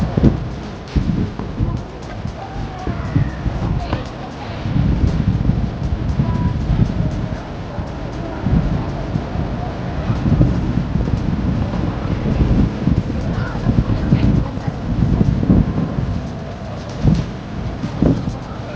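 Steady wind roars and buffets the microphone for a long stretch at Victoria Harbour Park, a dense low rumble with faint distant background activity.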